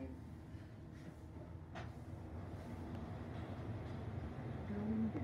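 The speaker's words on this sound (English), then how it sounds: "It's a Scenic elevator." An Otis traction scenic elevator running, a low, steady rumbling hum with faint rattles that swells slightly toward the end, heard from inside the car with no talk.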